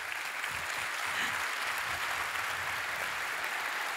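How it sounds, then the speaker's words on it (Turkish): Audience applause after an orchestral and folk-dance performance in a concert hall, a dense, steady wash of clapping sustained throughout at moderate level with no voices on top. "Alkışlarımız"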